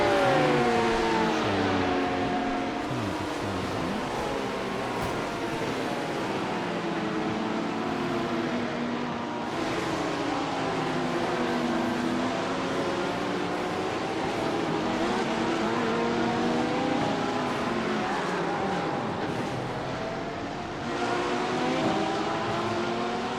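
Engines of LMP2 prototypes and other cars howl through an IMSA race in iRacing, pitches rising and falling through gear changes over a sustained loud drone, with cars passing nearby.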